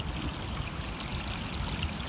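Water runs down a mountain hiking trail, a steady close rushing and trickling stream that carries on evenly throughout with no voices.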